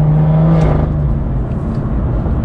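A BMW F87 M2 with a tuned, full bolt-on, loud exhaust holds a strong, steady drone with a deep low hum, loud and close, with no voices.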